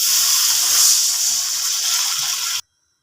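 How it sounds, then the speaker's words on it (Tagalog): Water gushes steadily into a cooking pan of sautéed shrimp for hipon na gisado, a loud, even rushing pour that stops abruptly near the end. "Tapos ilagay na rin ng tubig."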